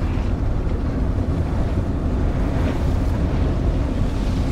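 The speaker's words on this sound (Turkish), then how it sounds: "Çok acayip bir rüzgar geldi bir anda" A sudden, strong storm wind roars steadily and loudly around a caravan, buffeting the microphone with continuous low rumble and no speech.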